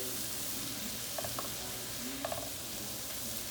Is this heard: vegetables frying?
yes